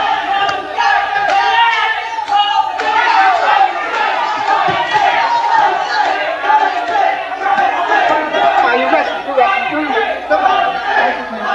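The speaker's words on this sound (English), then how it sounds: "Crowd taking up a chant of Jose." A large boxing arena crowd roars and chants steadily and loudly throughout, a dense wall of massed voices with rhythmic swells and no pause.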